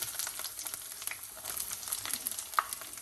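Cumin and ginger sizzle in hot oil for a ginger-lemon pickle, a steady close crackle with scattered sharper pops throughout.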